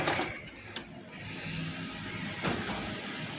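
A sewing machine runs briefly and steadily, stitching the seam of palazzo trousers at close range with a continuous mechanical hum.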